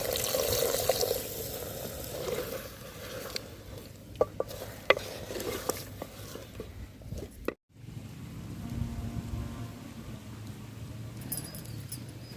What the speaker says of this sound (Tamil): இப்போ இந்த மசாலாவையெல்லாம் சேர்த்தி நல்லா கலந்து விட்டுடலாம்.